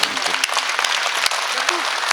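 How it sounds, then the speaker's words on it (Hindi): An audience at a Hindi kavi sammelan poetry event breaks into sustained clapping, brisk and close with individual claps audible, while a voice speaks faintly underneath. "एक बार सारे लोग दोनों हाथ ऊपर उठा करके जोरदार ताली"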